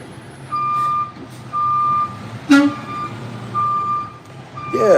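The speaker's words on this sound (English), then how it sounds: "The garbage man picking up stuff" Garbage truck collecting trash nearby, its reversing alarm sounding repeated long steady beeps over a low engine rumble, with a sharp hiss of air brake in the middle and clanking at the end.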